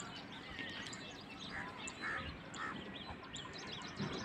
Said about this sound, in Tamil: குருவி சத்தம் எல்லாம் நல்லா கேட்டுட்டு இருக்குது.